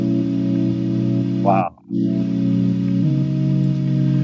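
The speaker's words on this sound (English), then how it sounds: "But then when you hear it together as a cluster" A Moog Sub 37 analog synthesizer holds a sustained, buzzy chord cluster that drones steadily, drops out briefly midway as someone exclaims, then returns with a slightly shifted voicing.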